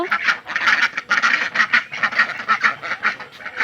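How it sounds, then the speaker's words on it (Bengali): Ducks arrive to feed beside a village tubewell on a cloudy afternoon, quacking continuously in a dense, busy chorus of overlapping calls that stays close and fairly loud throughout, with no talking. "এই যে হাঁস আইসা পড়ছে খাওয়ার জন্য"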